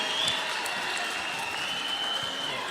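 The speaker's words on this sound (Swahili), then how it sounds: "Makofi jameni." An audience at a political gathering in Kenya applauds, steady dense clapping from many hands heard at moderate distance for the whole stretch.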